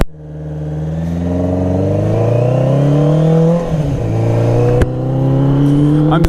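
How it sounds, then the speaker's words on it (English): Suzuki Katana 600cc motorcycle exhaust revving loud and close, engine pitch climbing steadily, briefly dipping near the end and rising again, with a light clatter. "I'm so happy with this exhaust now"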